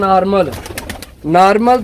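Ordinary pigeons kept for sale in Sarai Alamgir give two close, loud, throaty coos separated by a short gap with faint clicks.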